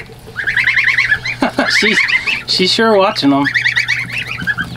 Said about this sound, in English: these are a very docile, quieter type of goose than like your standard